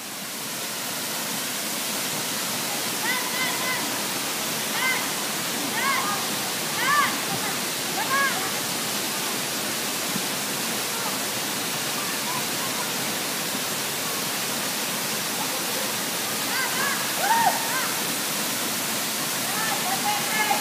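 Roaring rush of Kabigan Falls, a dense, loud, continuous wash of falling water filling the whole scene, with people calling out and chatting over it at intervals.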